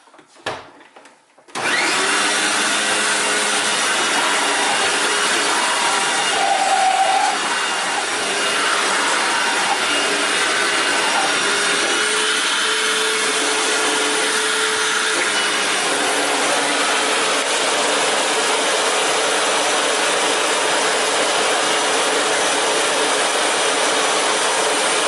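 A Hoover WindTunnel self-propelled upright vacuum starts after a few clicks and handling noises, then runs with a loud, steady motor whine and rushing airflow for over twenty seconds.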